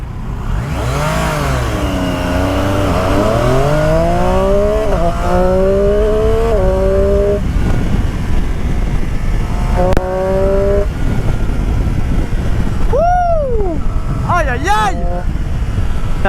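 A Triumph Street Triple 765 RS motorcycle revving hard, its engine pitch sweeping up and down through repeated rises and quick shifts, loud and close, with sharp blips near the end and wind noise throughout.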